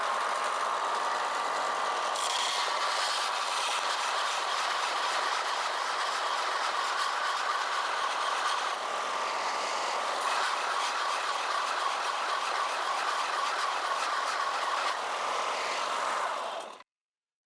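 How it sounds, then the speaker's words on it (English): A belt sander grinds the face of a metal bodywork hammer, producing a loud, continuous abrasive whir that holds steady for the whole stretch before cutting off abruptly at the end. "the way I'm doing it is I'm just using the belt sander like so"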